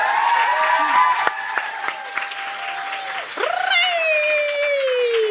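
Studio audience applause on a Norwegian morning radio show greets a guest, a steady broad wash of clapping that runs throughout with sustained tonal music sounding over it.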